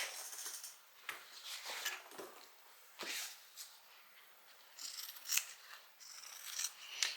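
Scissors snip away extra fabric from a small tote bag pocket, giving a string of crisp close cuts and soft rubbing of cloth, quiet and without talk.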